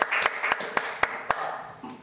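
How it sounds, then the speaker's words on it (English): Sharp, evenly spaced claps ring out about four times a second from the audience at an expo stall holders' night for suppliers, crisp and close over a faint murmur of the room. "Big clap to you guys"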